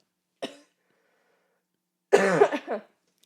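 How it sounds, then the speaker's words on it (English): A short single cough, then a pause, followed by a louder, harsher burst of coughing close to the microphone. "That's why I'm coughing"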